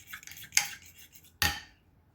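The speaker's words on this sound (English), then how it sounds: "I'm chopping up a white onion." Two crisp chopping strikes of a knife cutting a white onion on a cutting board, spaced about a second apart, close and clear with quiet in between.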